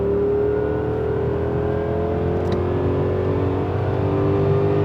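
An old Jaguar XJ8 with its entire exhaust cut off roars steadily and loudly, its engine holding a raw, rumbling drone without letup and swelling slightly as it revs; no voices.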